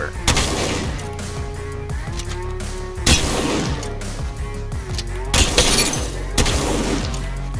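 Shotgun blasts fired from the hip in Apex Legends boom out at intervals of a few seconds, loud and sharp. Game sound effects and a faint voice fill the gaps between shots.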